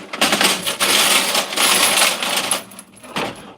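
Brass cartridge cases being spread across a drying tray for reloading, a busy metallic jingling and clinking in close bursts that rattle for a few seconds and then trail off.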